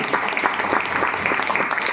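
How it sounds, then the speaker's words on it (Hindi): Steady, dense clapping from an audience at a DXN gathering, continuous and fairly close, with no break through the whole stretch. "उनका इस दर्शन के लिए जोरदार से हम लोग ताली बजाएंगे।"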